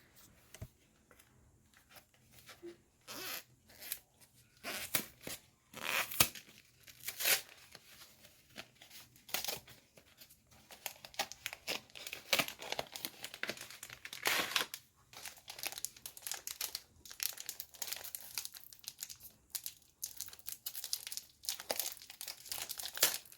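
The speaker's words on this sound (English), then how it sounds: "As you can see, I'm struggling quite a bit getting this film open, so bear with me." Polaroid film packaging being torn and crinkled open, a long run of irregular crackling, rustling bursts and rips of foil and card, close and fairly quiet, without talk.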